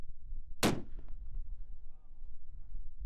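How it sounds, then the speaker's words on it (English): A single loud, sharp rifle report from a long-range shot at a distant rock target, followed by a fading rumble of echo across open ground. "One more shot. He has to hit on this one, or he's out."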